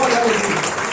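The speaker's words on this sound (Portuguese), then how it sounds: "Salva de palmas para o nosso Deus" A church congregation breaks into brief applause, with clapping blended with a voice speaking over it.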